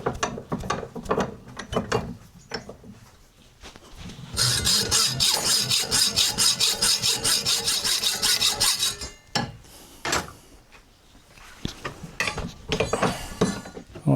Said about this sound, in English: So we'll put that in the vise now, chop it off.